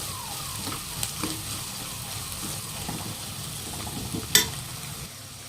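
Chili masala powder fries in hot oil for a jackfruit curry. A soft, steady sizzle runs under occasional scraping stirs, with one sharp clink of a utensil near the end and no talking.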